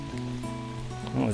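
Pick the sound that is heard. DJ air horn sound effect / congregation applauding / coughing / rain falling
rain falling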